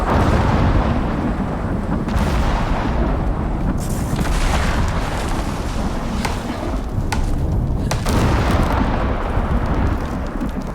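Thunder rolls through a lightning storm in the survival game Icarus, a continuous loud low rumble with several sharper cracks and booms breaking through, steady and dense for the full length with no talking.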